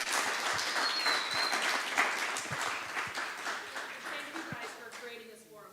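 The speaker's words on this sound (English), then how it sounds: "So can we take a quick round of applause?" An audience at a community event on Arab American representation in office claps in a sustained round of applause that slowly fades, steady and fairly close, with a voice speaking briefly near the end.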